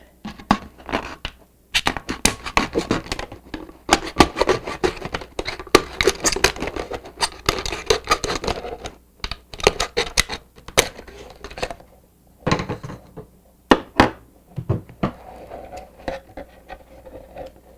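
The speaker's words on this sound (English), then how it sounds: "You're going to cut the top off first. I have a craft knife." A craft knife scrapes, taps and crackles through thin plastic while cutting the top off a plastic water bottle, giving irregular close clicks and crunches with brief pauses and no talk.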